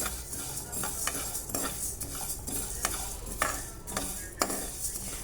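Spices sizzle and crackle in a hot pan while a spoon stirs and scrapes in quick, repeated strokes, close up with no talking.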